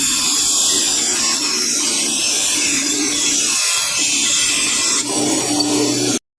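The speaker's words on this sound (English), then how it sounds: "I'm going to cut them out. Trusty little bandsaw" A small bandsaw cuts through aluminium brackets with a steady, dense, hissing whine that runs continuously at close range, then stops abruptly at the end.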